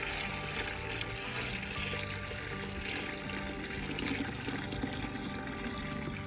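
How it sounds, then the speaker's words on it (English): Water pours steadily into a freshly dug fence post hole in a garden, a continuous close splashing rush with no talking. "So it says fill the hole with 1/3 of the way up with water until the water stops seeping away."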